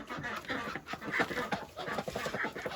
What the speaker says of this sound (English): A chicken or two, maybe a little chick.